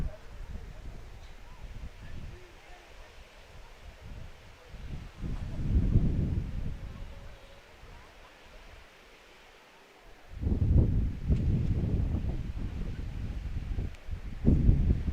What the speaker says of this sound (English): this wind definitely is not helping with that